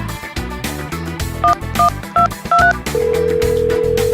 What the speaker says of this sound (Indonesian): Kalau gitu kita telepon Kak Handi dulu ya Kak.